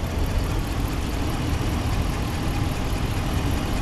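A 2017 Ram 1500 Rebel with the 5.7-liter HEMI V8 idles in a steady, even low rumble heard up close, with no talking.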